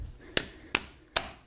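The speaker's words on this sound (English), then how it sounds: "so I'm gonna try the impact, see what happens." Three sharp, evenly spaced bursts from an impact wrench working on a Nissan 350z front spindle knuckle, each a short loud rattle-like hit with quiet gaps between, no talking.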